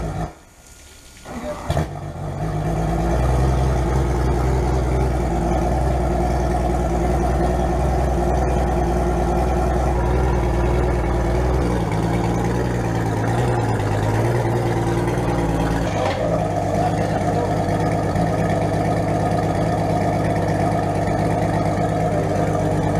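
Outboard motor idling steadily while being flushed with fresh water to wash salt water out of the engine; a loud continuous low rumble starts after a brief quiet knock at the beginning and runs throughout.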